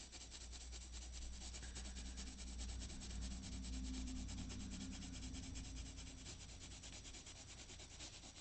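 Colored pencils being sharpened, a steady close grinding and rubbing scrape that runs continuously for the whole stretch with no talk.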